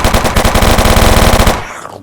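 Rapid automatic gunfire from guns in a survival video game, a loud, dense burst of shots for about a second and a half before cutting off into a short fading tail.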